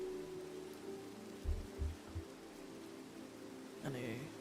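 Soft, steady rain falls in a Minecraft-style video game, a faint, even hiss under a few low thumps and a brief game sound near the end.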